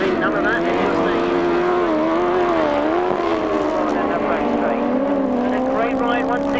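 1000cc sidecar grasstrack racing outfits roar round the pit bend, engines howling steadily and shifting pitch as they pass, with a commentator talking over the racing throughout.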